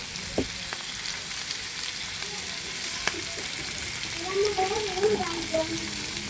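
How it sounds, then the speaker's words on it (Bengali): Sweet pumpkin pieces sizzle and fry in a new pan while being stirred, with soft scraping and clinks over a steady, fairly quiet hiss. "তো মিষ্টি কুমড়োগুলো দিয়ে দিচ্ছি এখন একটু নাড়াচাড়া করে দিব নেড়ে দিব"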